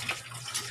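Tap water runs in a brief, soft gushing splash, close by and without voices.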